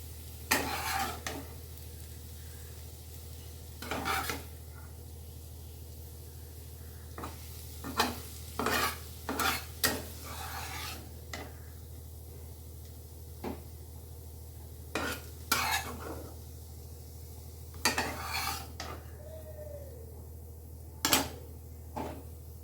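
Soft potato bhaji is stirred in a wok, the spatula scraping and clanking against the metal in short bursts while a faint sizzle of frying carries on quietly underneath.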